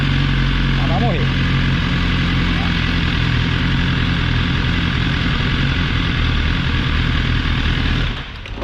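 Faulty motorcycle engine running close and loud, misfiring with coughs and pops as if out of timing, then cutting off near the end.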